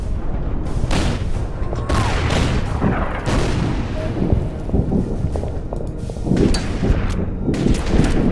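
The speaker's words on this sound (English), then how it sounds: "let's hit them with some artillery" A dense artillery barrage in the Order of Battle strategy game, set in the Philippines: heavy booms and gunfire pile up continuously and loudly, with overlapping impacts and blasts throughout.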